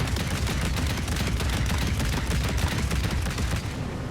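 Cannons fire from a flying fortress in the Trailmakers video game as rapid, dense bursts of booming shots that run continuously and loudly throughout.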